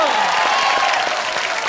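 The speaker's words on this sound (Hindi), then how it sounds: "जोरदार तालियां हो जाए।" A studio audience at a comedy show breaks into a short, dense burst of clapping and cheering that fills the space evenly throughout.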